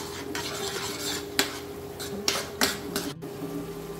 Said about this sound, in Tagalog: At haluin po natin para mag-incorporate po yung kanyang mga flavors.